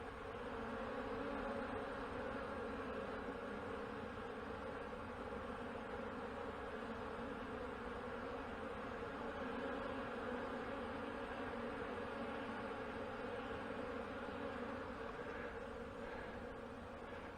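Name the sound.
honey bees buzzing in a hive box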